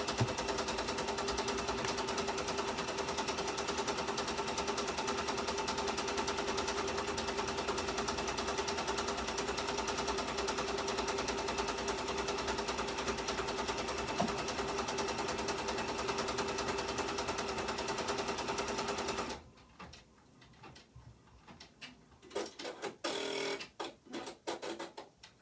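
A sewing machine stitches a rice-filled embroidered snowflake, its needle hammering in a fast, steady mechanical rattle for about twenty seconds before stopping, followed by a few quieter handling clicks.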